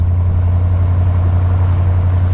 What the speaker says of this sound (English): I love the exhaust tone. Yeah, there's a nice rumble.